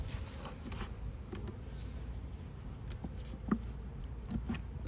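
Honeybees hum softly and continuously during a hive inspection of stacked boxes and frames, a faint low buzz with occasional light taps and rustles and no talk.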